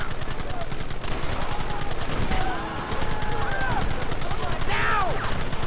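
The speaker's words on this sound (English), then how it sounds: "Behind the rocks! Gun them down!" Rapid rifle and pistol fire during a Red Dead Redemption shootout on Xbox 360, a steady crackling stream of shots with voices shouting over it.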